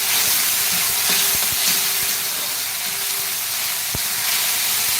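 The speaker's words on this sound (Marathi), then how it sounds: "मसाला चांगला असा परतून घ्या गॅसची फ्लेम लो ठेवायची आहे" Masala of ground green chilli, ginger, coriander and garlic sautés in a pan over a low flame for egg curry, giving a steady, close hiss and sizzle with a few faint clicks and no voices.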